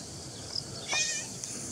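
A cat meows once or twice in a farmyard courtyard, close and moderately loud, with faint outdoor background noise.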